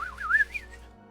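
A voice whistles to imitate a little recorder: a single bright, wavering melodic phrase that rises and trills for under a second, close and clear, then fades into quiet.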